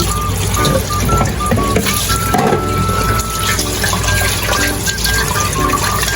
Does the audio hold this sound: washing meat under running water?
yes